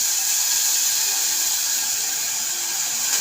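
Dal fries in a spiced tempering with a continuous, even sizzle and hiss, close and unbroken, with no voices.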